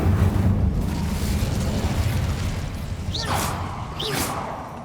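A fire spell erupts in the Hogwarts Legacy game with a deep rumbling whoosh of flames, followed by two sharp swishing bursts, loud and close with no talk.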